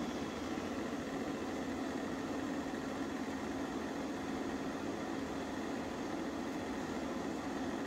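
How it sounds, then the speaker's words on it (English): An air purifier runs steadily in a room during resin pouring for a butterfly clock. The hum is a low, even whir with no change for the whole stretch, and nobody talks over it. "That noise you can hear in the background is my air purifier."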